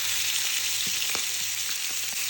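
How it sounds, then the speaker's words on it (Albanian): Flour frying in hot oil in a pan, a loud, dense, unbroken hiss of sizzling with a few faint clicks underneath, heard close with no voices. "Po skuq mielin."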